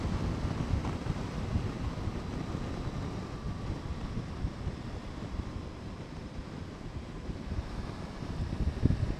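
Wind buffeting a microphone while riding through the Picos de Europa mountains on a mild day, a steady low rumble with gusty surges that runs the whole time and swells louder near the end.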